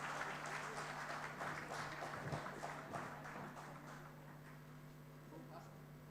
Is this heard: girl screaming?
no